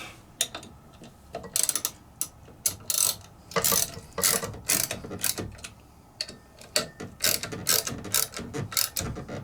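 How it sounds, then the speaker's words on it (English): Bolts on a treadmill motor bracket being hand tightened, giving a close, busy run of metallic clicks and ratcheting taps with uneven rhythm throughout. "we're going to hand tighten that"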